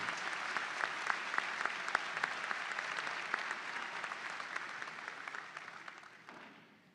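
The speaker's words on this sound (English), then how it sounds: "Let's give these folks a round of applause for their help and participation today." A commencement crowd at Eastern Illinois University's spring 2022 ceremony applauds the student marshals, a sustained wash of many hands clapping in a large hall that slowly fades away.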